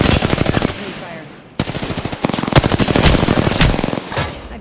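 Enemy gunfire in the video game Apex Legends: rapid automatic bursts rattle loud and close, broken by a brief pause, then resume as dense repeated shots.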